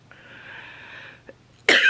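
After a faint sustained hum, one sharp, loud cough bursts out close by at the very end.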